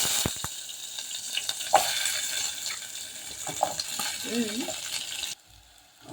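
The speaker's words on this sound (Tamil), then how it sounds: "எண்ணெய் சூடாயிடுச்சு, வெங்காயத்தை போட்டு வதக்கலாம்." Onions sauté in hot oil in a kadai for cauliflower gravy, producing a steady hiss with intermittent spatula scrapes and stirring clatter before the sound cuts off abruptly near the end.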